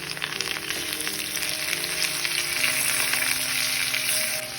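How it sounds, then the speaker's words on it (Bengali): Spices and chopped tomato sizzle loudly in a hot pan over high flame for Bengali fish chorchori, a steady close frying hiss with occasional stirring scrapes and no voices. "এবার দেখো এই মশলাগুলো আমি দিয়ে দিচ্ছি পুরোটাই দিয়ে আর এই টমেটো কুচিটাও দিলাম একটু নেড়ে নেবো"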